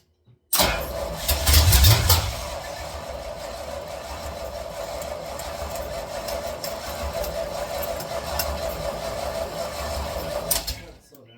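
The engine of a 1976 Chevy squarebody truck cranks and catches, a brief heavy burst of starter and firing followed by a steady rough run for several seconds before cutting off abruptly.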